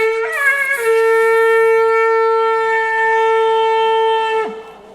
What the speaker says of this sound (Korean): 이런 나팔이 있고 유대인들이 이런 양각 나팔을 불면서